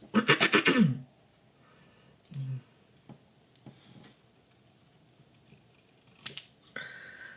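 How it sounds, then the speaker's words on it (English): Scissors snip several quick cuts at the corners of a folded paper journal tab, close and crisp, followed by quieter handling and rustling of paper with a few small clicks. "And then we'll just do like a little trim on the corners"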